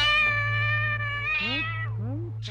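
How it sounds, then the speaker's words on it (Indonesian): A cat meows twice at night indoors, a long drawn-out cry followed by shorter wavering calls, clear and fairly close against a low steady hum. "Itu pasti kucing."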